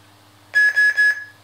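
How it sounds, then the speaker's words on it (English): A Saberforge Arbiter lightsaber gives three short electronic beeps in quick succession as its switch is held to enter color-changing mode, clear and close, over a faint low hum. "okay until it turns into 3 beeps"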